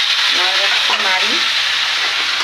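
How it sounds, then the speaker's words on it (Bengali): Chicken pieces frying in hot oil for a chicken curry, being browned, with a loud, steady close-up sizzle and crackle throughout and a few brief scraping stirs. "চিকেনগুলোকে আলাদা করে ভেজে নিচ্ছি, একটু ব্রাউন করে"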